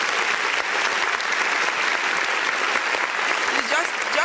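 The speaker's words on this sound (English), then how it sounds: "Please, can you give him a round of applause?" An audience gives a round of applause, dense clapping that holds steady and fairly loud for a few seconds, with faint voices and a whoop or two rising within the crowd noise.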